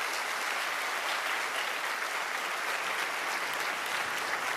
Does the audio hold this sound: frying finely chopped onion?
no